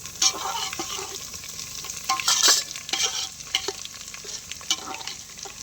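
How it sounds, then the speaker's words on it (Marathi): Ground spice paste tossed into a pot with cumin seeds sizzles and fries while a spoon stirs and scrapes, with crackling bursts and steady frying close by. "आता त्याच्यामध्ये बारीक केलेले वाटण टाकून घेते."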